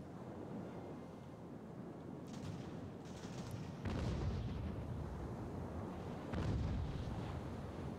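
Distant naval cannon fire booms in Ultimate Admiral: Age of Sail, a few heavy low rumbling shots at long range against a steady background of wind and sea ambience.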